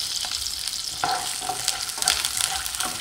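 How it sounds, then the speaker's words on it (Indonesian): Shallots and garlic fry in hot oil together with peanuts, giving a steady, close sizzle with crackling pops and occasional stirring scrapes throughout; no voices. "Kita goreng sampai matang."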